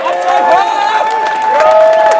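Crowd noise at an outdoor freedom march rally in Austin, a steady broad wash of cheering and clapping with shouted voices and whistle-like tones running throughout, loud and sustained.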